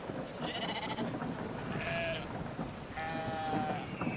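Lamb bleating in a Tamil story video game, two or three drawn-out bleats over a noisy, rain-like background hiss.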